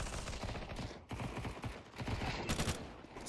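Rapid gunfire from Counter Strike 2 crackles in dense, sustained bursts, loud and close, with brief dips between volleys.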